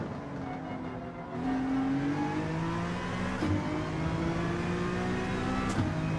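Honda NSX race car engine in the Gran Turismo 7 racing game, accelerating hard through the gears with a rising whine that drops at each shift, loud and continuous with no voices.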